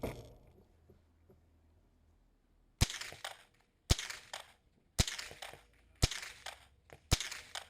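Mini rifle shots at a shooting championship: after a quiet stretch, five sharp, loud cracks ring out about one second apart, each trailing off in a brief echo.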